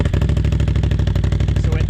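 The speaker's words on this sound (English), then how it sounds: "now we've got the Yoshimura exhaust on an 800 XMR" A Can-Am 800 XMR ATV fitted with a Yoshimura exhaust idles close by, its steady, throaty low-pitched thrum pulsing evenly with no other sound over it.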